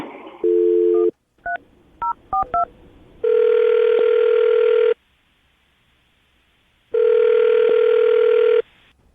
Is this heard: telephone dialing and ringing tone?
yes